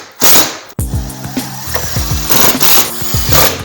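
A power driver sinks screws into wall studs while mounting a unit in a tiny home, giving repeated short loud ratcheting bursts broken by brief pauses, with no talk.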